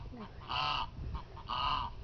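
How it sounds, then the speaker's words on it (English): Geese honk loudly and close by in two harsh, drawn-out calls spaced about a second apart, over a low outdoor rumble. "Pretty goose. Pretty geese."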